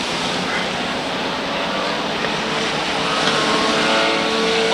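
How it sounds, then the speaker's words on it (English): Stock cars racing at Waterford Speedbowl, a steady dense engine roar from several cars running side by side out of a turn, loud and sustained with a slight swell near the end. "LaRose taking a peep down low on Morissette, side by side out of turn number 4 as a brand new leader looks to emerge."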